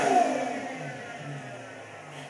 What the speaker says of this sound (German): sich den Sound des Fahrzeugs anzuhören